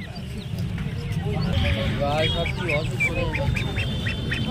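Ducks quack and chatter in repeated nasal bursts at a busy poultry market hat in Nepalgunj, set against a dense crowd murmur with people talking nearby.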